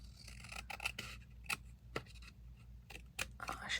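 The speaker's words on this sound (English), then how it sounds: "I think this one I was going to trim the white edge off of" Scissors trim the white edge off a piece of collage paper, a few short crisp snips and rasps close by, separated by quiet pauses, with no talking.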